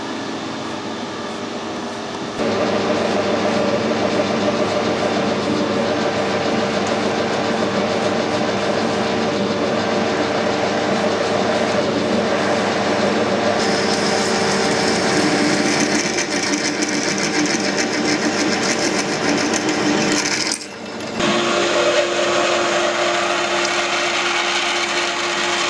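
A machine grinds and whirs continuously as it drills a metal gear blank, a loud steady mechanical roar with a brief dip near the end.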